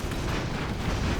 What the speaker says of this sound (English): And there's the grenades dropping straight on that.